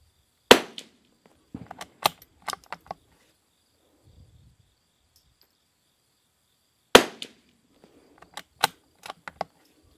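Two sharp .22 rimfire rifle shots with RWS R50 ammunition, spaced well apart on a target range, each followed by quick bolt-action clicks and clatter; close and crisp with quiet gaps between.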